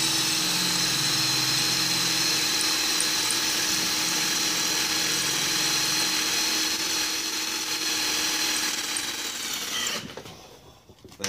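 A power drill with a Porter Cable bit drilling all the way through, as part of fitting Mercedes AMG wheels to a GTI: a loud, steady whine running continuously, then cutting off abruptly near the end.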